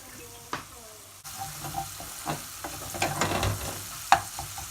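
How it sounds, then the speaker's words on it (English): Spices frying gently in a pan on low heat, with soft intermittent sizzling and faint clinks and stirring, fairly quiet and close. "Cook it on low so you don't burn your spice."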